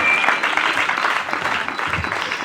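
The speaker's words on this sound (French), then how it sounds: "Acclamons Jésus." A church congregation breaks into loud, dense applause and acclamation for Jesus, a steady crowd clapping that fills the room.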